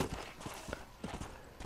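Horse hooves clop in the Red Dead Redemption video game, a quick, faint run of uneven thuds at close range over low background noise.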